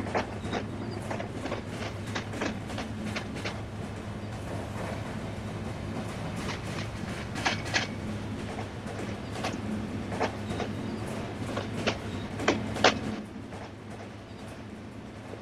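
A train rolls along a dual-gauge broad-gauge line in a train simulator game, the Banalata Express from Rajshahi to Abdulpur, with a steady low rumble and repeated clickety-clack wheel beats that come in clusters over a continuous hum.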